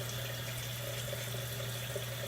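A bathroom tap runs in a steady, even stream during a wet shave, a constant moderate hiss with a low hum underneath and no speech.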